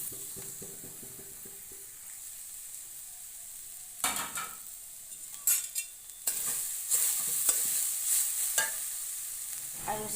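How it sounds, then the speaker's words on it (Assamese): Grated coconut hits a hot wok and is stirred: a soft background sizzle, then sharp scraping strokes and louder frying bursts that come and go, close up, no voices. "এইবাৰ মই নাৰিকলখিনি ভাজিব ওলাইছোঁ।"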